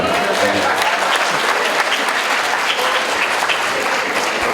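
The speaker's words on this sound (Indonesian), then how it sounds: "Mohon tepuk tangan." Sustained audience applause fills a national public-relations convention hall in Indonesia, a dense, steady clapping from a large crowd with faint voices mixed in.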